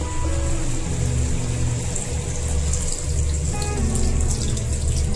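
Water pouring steadily into a pot of boiled vegetables while making a Bengali oats diet dish, a continuous close splashing flow with a low rumbling undertone throughout.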